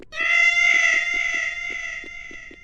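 A cat in a horror RPG video game gives a loud, drawn-out meow with a strained, wailing quality, holding clear and close for over two seconds before gradually fading.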